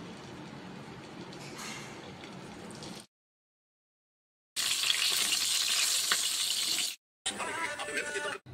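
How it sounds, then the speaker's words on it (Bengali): Pumpkin pieces fry in white oil in a wok, giving a loud, close, continuous sizzle heard in three bursts separated by sudden silent gaps. "কড়াইয়ে সাদা তেল দিয়ে কুমড়োগুলোকে ভেজে নিচ্ছি।"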